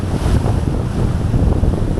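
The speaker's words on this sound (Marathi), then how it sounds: "पाणी जोरात येतंय. लाटा बघा." Sea waves surging onto the Konkan shore during fishing, a loud continuous rumbling wash mixed with wind buffeting the microphone, with no talk.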